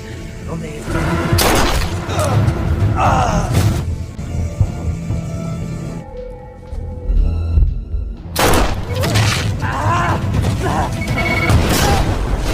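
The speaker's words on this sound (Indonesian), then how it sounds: "Setelah berbaku tembak cukup lama, pada akhirnya Rossi berhasil menghabisi mereka berdua" Movie gunfight in a forest standoff: loud bursts of gunfire and heavy booming impacts crowd the scene over a dense music and effects bed, with a brief lull in the middle before the shooting resumes.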